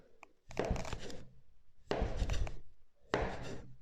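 A knife chops brioche dough into pieces beside a loaf tin, landing three separate close, dull thunking cuts at an even pace with short pauses between them.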